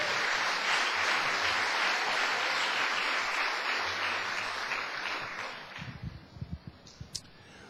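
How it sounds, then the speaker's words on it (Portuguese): A church congregation gives loud, sustained applause that fills the room for several seconds, then thins into a few scattered, separate claps as it dies away. "Uma salva de palmas pela sua vida."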